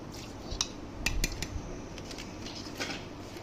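Chicken biryani marinade with onions and oil being mixed by hand in a bowl, giving soft wet squishing and a few light clinks of metal against the dish, fairly close and steady, with no talking.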